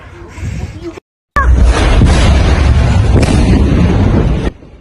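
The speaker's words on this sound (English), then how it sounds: "It appears this was an explosion caused by a severe accident." A loud, roaring explosion after a car crash rumbles on for several seconds after a sudden cut, close and overpowering, then drops off abruptly.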